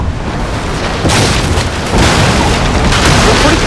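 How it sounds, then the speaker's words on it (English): Cannon fire and explosions in the Napoleonic naval battle game Napoleon Total War, recreating the 1801 Battle of Copenhagen: loud, dense, continuous booming and rumbling blasts, with fresh detonations swelling in at intervals. "See the cannons getting blown up"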